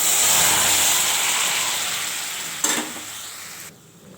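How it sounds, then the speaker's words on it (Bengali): Butter sizzling in a hot kadai before vegetable soup is poured in, a steady, loud frying hiss that slowly fades, with a brief stirring clatter near the end. "কড়াই গরম হয়ে গেছে, একটু বাটার দিয়ে দিলাম"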